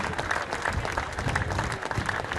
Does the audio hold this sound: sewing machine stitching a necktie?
no